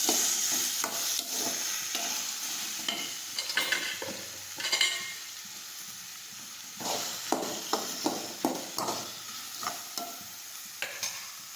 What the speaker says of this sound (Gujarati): હિંગ નાખીશું તમારેલા ગલકા નાખીશું હવે આપણે સાતળી લઈશું